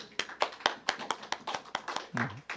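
A church youth congregation claps together in a steady, fairly fast rhythm, many hands blending into sharp repeated bursts, moderately close, with a brief murmur of voices near the end.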